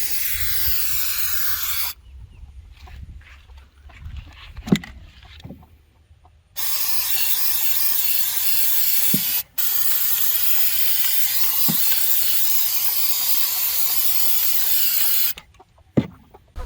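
Flex Seal spray coating is applied to a chicken feeder in three long, loud aerosol hisses, close by, with short pauses and a few faint knocks and clicks between the bursts.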